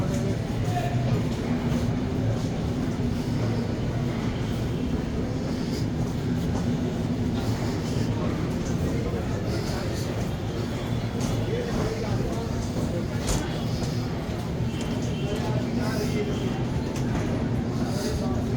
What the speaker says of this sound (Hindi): ये आ गई हैं ट्रेनें।